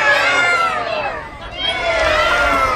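A festival crowd at a Renaissance faire loudly imitating cats, many overlapping drawn-out meows and yowls rising and falling together, close and dense.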